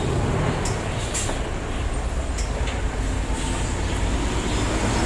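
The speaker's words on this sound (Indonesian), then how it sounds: "ada mobil lewat" A vehicle passing on a street in Taiwan, a loud, sustained rumbling roar close by with a few brief higher mechanical squeaks on top.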